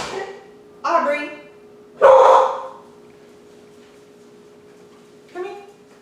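A pet dog named Aubrey barks indoors during a yoga core workout, with two loud bursts close to the microphone, then a quieter bark near the end, over a steady low hum and some speech.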